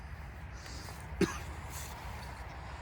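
A single short cough from someone getting over a cold stands out once midway, close and fairly sharp above a constant low room hum, with no speech around it.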